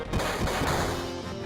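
Cannon attack fired during a battle in the Final Fantasy VII video game, a dense booming blast with several heavy impacts rolling together over a sustained roar, loud and close throughout.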